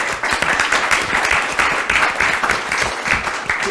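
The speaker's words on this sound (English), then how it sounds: "we really should give her a round of applause" An audience at a panel event on global security applauds a speaker, a steady, even wash of many clapping hands throughout the short stretch.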